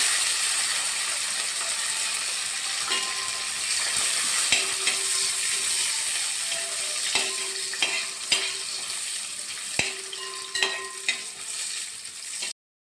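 Coconut pieces, cashews and raisins fry in a pan for jackfruit seed payasam, a steady close sizzle with a spoon scraping and tapping the pan at irregular intervals throughout.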